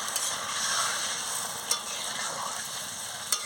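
An egg and potato curry is stirred in a pan just after water goes in, giving a continuous hissing simmer close by, with two brief, crisp spatula taps against the metal.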